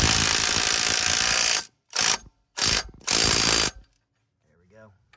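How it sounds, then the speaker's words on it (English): An impact gun drives a lug stud home on a 2022+ Subaru WRX during a Brembo big brake kit install, a long loud rattling burst followed by two short hammering bursts, close by, then quiet. "then you grab your socket key, your impact gun, and just drive it home"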